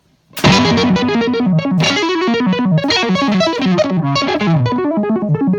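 Electric guitar through an EarthQuaker Devices Arpanoid arpeggiator pedal in minor random arpeggiation mode, control turned fully up, spilling rapid cascading note runs in loud, continuous bursts that restart about every second and a half, with a distorted, chorused edge.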